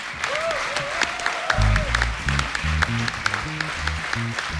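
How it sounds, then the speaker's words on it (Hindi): A studio audience at The Kapil Sharma Show applauds four performers with steady, loud clapping, joined partway through by a bright burst of show music beneath the ovation. "चारों के लिए जोरदार तालियां"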